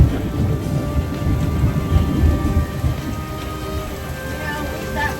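Thunderstorm at sea seen from a sailing boat, with heavy rain hissing steadily and deep rolling thunder rumbling through, loudest early and easing slightly toward the end, no voices.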